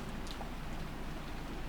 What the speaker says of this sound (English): We can't do anything except pass the time listening to the sound of the rain